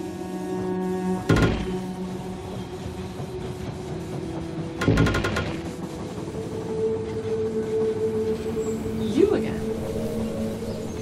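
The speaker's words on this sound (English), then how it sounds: "The train has arrived at the station." Train sounds in the They Are Billions video game: two sharp metallic clanking bursts with a steady rolling hum between them, and a tonal whistle-like squeal near the end.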